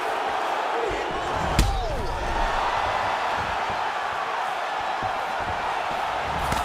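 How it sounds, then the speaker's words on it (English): A large crowd in the video game UFC 4 roars steadily throughout, reacting to fighting strikes, with a sharp impact-like smack cutting through once near the start. "you hear the crowd react every time they come together"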